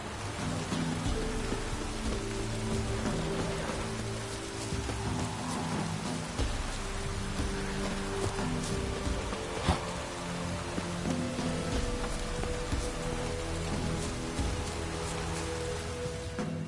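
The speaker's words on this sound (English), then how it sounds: "I suppose it brought us rain." Steady rainfall in the video game The Witcher 3 patters continuously over a low hum and faint tonal background, with occasional louder drops; no voices.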